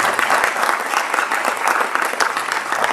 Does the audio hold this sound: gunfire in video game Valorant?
no